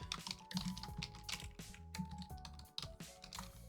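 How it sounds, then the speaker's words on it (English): Brisk typing on the stock Lenovo keyboard that came with a desktop computer: a steady stream of close, crisp key clacks with brief pauses, no voices. "This is the Lenovo keyboard that came with the computer."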